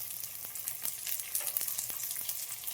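Green chillies hit hot oil with browned onions for a red radish vegetable dish, making a dense, steady sizzling hiss dotted with small crackles and pops.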